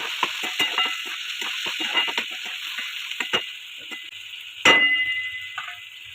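Chopped tomatoes fry in hot oil in a pan for egg bhurji curry, a steady close sizzle broken by scraping stirs and a sharper clatter of spoon against pan near the end.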